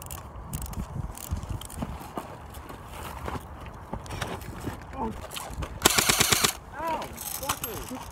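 A rapid burst of gunfire aimed at a person during a night outing, fast cracking shots in a dense cluster over scattered movement noises, with people talking around it.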